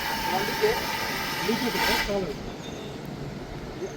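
A fire extinguisher discharges in a steady, continuous hiss during a hospital fire drill, close and fairly loud, easing slightly toward the end.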